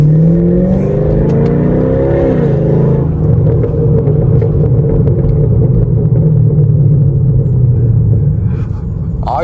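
Loud straight-piped 2017 Camaro SS exhaust revving up and settling into a heavy, continuous droning rumble while driving, with a few crackling pops and another rev at the very end.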